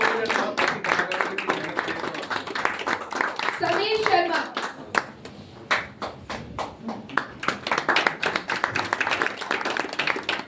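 Audience clapping at a theatre festival after a play performance, a dense run of sharp hand claps spread through the whole stretch while a voice speaks over it.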